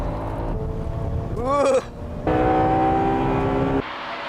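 A Honda Integra Type R on a racing circuit among sports cars like the NSX, GT-R, RX-7 and Supra, engine droning loudly with a quick rising-falling rev burst and steady high-pitched engine whine, with the car's outside wheel smoking in a final corner.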